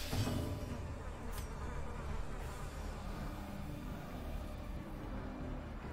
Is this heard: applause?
no